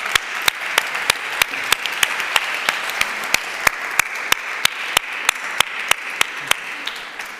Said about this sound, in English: you can see Mohamedou Slahi, if we can just give him a round of applause.